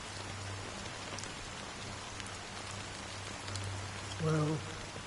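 Steady rain falls in the video game Honkai Star Rail, a dense continuous hiss of drops with a low hum beneath and a brief tonal blip near the end.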